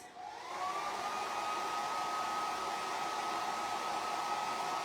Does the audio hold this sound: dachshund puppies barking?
no